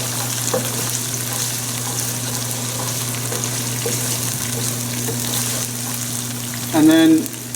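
Green chilies frying in a pan give a steady, moderate sizzle over a low kitchen hum, with a brief louder burst of running tap water near the end.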